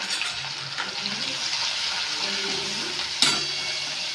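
Tomatoes, garlic and chili powder go into a hot pan of garlic-cumin paste, giving a steady frying sizzle with stirring scrapes and a sharp clink partway through.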